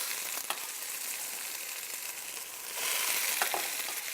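Chopped tomatoes, cut into big chunks, hitting a hot pan and sizzling steadily, a soft continuous hiss that swells louder near the end, fairly quiet with no talk.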